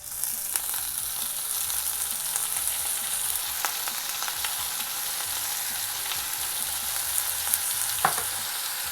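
Spinach and soaked lentils sautéing in a hot pan for a Tamil pasalai keerai poriyal, a steady close sizzle and crackle throughout, with a few brief scrapes of stirring.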